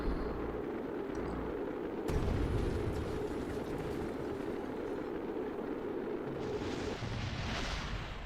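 Rocket explosions in Kerbal Space Program, heard as a sustained, distant rumbling roar with a sudden boom near the start and a hissing burst toward the end, with no voices.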